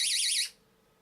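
A shrill warbling electronic window alarm sounds loudly for under half a second, then cuts off abruptly, leaving faint background hum.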